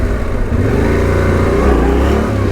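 Motorcycle engine revving up under added throttle during wheelie practice, a loud, close, sustained growl that rises and holds for a couple of seconds with no talking.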